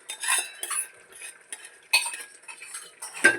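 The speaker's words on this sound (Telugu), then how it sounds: "వేసుకొని ఒక్కసారి కలుపుదాము. ఇలా కలుపుదాము." Utensil scraping and clinking against a pan while eggplant pieces are stirred in hot oil, several quick irregular strokes close by with no talking.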